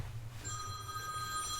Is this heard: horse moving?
no